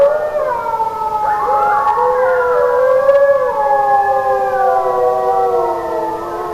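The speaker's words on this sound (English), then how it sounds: "After that, the coyotes join in" Several coyotes howl together at night, overlapping rising and falling wails that waver and sustain for seconds, fairly loud and steady with no talk.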